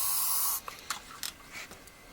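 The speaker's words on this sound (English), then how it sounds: "taking a little bit of hairspray" A short, loud burst of hairspray sprays onto hair while a chignon is styled, a steady hiss lasting about half a second, followed by faint rustling and handling sounds.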